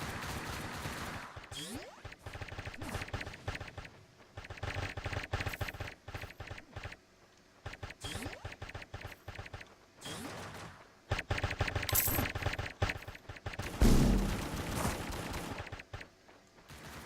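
Rapid gunfire in the online shooter game Offensive Combat, dense bursts of fast automatic shots in several long volleys separated by short pauses, loud and continuous with no voices.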